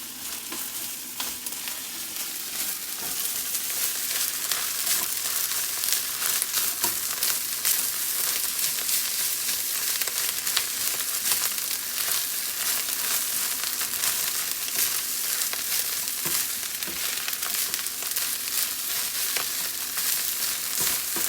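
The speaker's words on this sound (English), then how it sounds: "this egg is cooking fast" An egg frying fast in a hot, oddly sized pan on an electric stove, a loud, steady sizzle and crackle heard close up without pause and with no talking.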